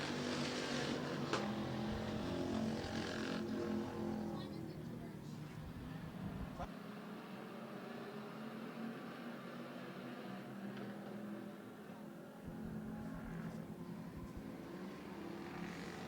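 Strictly stock race cars lap the Twin State Speedway oval in Claremont, New Hampshire, their engines a steady roar that swells and fades as the pack passes, with a track announcer talking over it.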